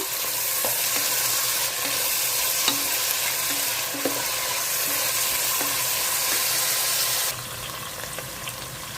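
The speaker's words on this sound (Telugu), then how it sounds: "పుదీనా కొత్తిమీర అన్నీ వేసేసుకుందాము వేగిపోవాలి బాగాను" Mint and coriander leaves fry in a pan with onion and green chili, giving a loud, continuous close sizzle broken by light spoon clicks and scrapes as the mix is stirred.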